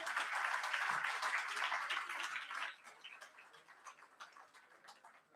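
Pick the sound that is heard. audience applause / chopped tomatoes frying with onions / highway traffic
audience applause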